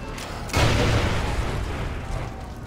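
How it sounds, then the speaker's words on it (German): A loud booming gunshot from a sniper rifle in the shooter Far Cry 3, a single heavy blast with a long rumbling tail over steady game background noise. "So, mal die neue Sniper testen."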